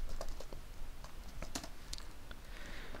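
A computer keyboard is typed on in irregular quick clicks and taps, faint and close, with no voices.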